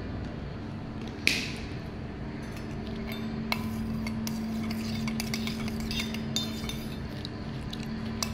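Coconut oil hair mixture stirred in a bowl, with soft scraping and a few light clinks of a utensil against the bowl, close and quiet over steady low background hum.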